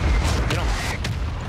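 Mortar strike in Warzone 3, heavy booming impacts with rumbling explosions and scattered gunfire, dense and loud, while a player talks over the action.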